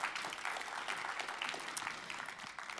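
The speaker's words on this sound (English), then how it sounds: "Okay, very big round of applause." Audience at a media prize award ceremony giving a sustained round of applause, dense even clapping filling the hall for nearly three seconds without a break.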